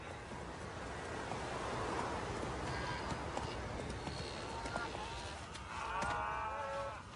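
A herd of cattle moos in the open amid a steady rumble of hooves, with horses nearby as ranchers work the livestock, the lowing calls surfacing toward the end.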